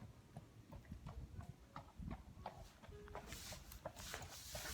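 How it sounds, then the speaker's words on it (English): Steady clip-clop of horse hooves on a hard surface, a regular walking rhythm over a low rumbling background, moderately close. "Oh, look, there's a horse."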